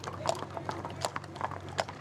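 Horses' hooves clip-clop on a street in Carrick as 46 riders and a pack of hounds set out on a hunt meet, producing a steady run of uneven hoof strikes at moderate distance with faint voices nearby.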